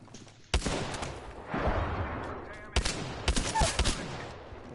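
Shooter video game combat: sharp, loud gunshots arrive in separate bursts, a single crack early on, then a cluster of several shots later, with rumbling background noise and faint voices between them.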